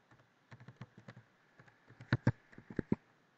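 A password is typed on a computer keyboard in quick, close key clicks, a light run of taps followed by a few louder, sharper strokes.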